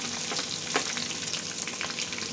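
Onions sizzle in a pan for pav bhaji, a dense steady frying hiss close by with a few light stirring clicks, no voices.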